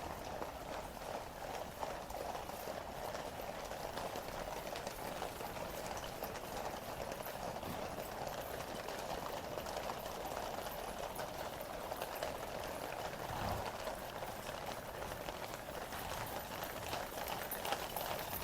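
Steady clip-clop of many royal cavalry horses' hooves on hard ground during an inspection, a continuous dense patter at moderate distance with no talking.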